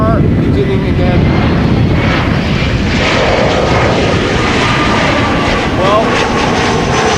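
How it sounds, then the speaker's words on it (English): A KLM Boeing 737-700 airliner approaching to land is a loud, steady engine roar close by, lasting throughout, with someone briefly speaking over it. "the first airplane 236 right is approaching, arrival from Bill 737-700 KLM flight 1294 north of Nieuwkoop"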